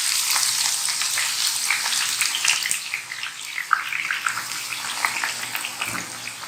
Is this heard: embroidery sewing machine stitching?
no